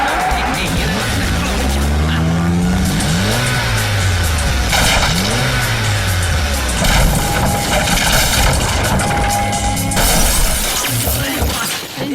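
A car speeds and skids in a Kannada comedy movie scene, with loud crashing and shattering glass over a dense, continuous roar and swooping engine tones.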